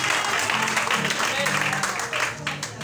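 A church congregation applauding together during worship, a dense, steady wash of clapping that fills the room for about three seconds with a faint tonal hum of music or voices underneath.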